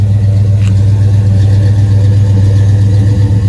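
A 1972 Chevelle with a 454 big-block runs at a steady idle on a cold day in Chicago, a loud, even low rumble close by with no voices over it.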